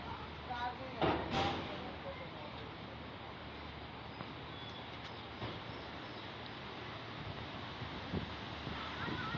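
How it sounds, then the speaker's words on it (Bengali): Strong wind ahead of a storm roars steadily as a broad, faint rush, with a few louder buffets battering the microphone early on. No voices are heard over it. "প্রচণ্ড পরিমাণে বাতাস"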